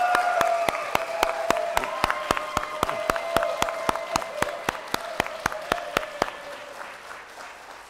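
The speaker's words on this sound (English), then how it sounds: "So let's give a round of applause." Clapping and cheering at the NASDAQ closing bell: a crowd claps steadily in a regular rhythm over a low murmur of voices, the claps sharp and close before the sound fades at the end.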